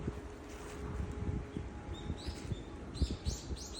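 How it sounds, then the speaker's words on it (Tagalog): Birds chirp in an autumn forest in Japan, a few short clear calls rising in the second half, faint against wind and low rumbling background noise. "yung mga huni ng ibon"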